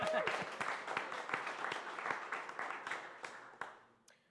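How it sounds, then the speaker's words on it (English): An audience at a film and multimedia tech hackathon in Jõhvi applauds, a sustained burst of many hands clapping that gradually thins and fades out over several seconds. "Clapping part. We always forget the clapping part."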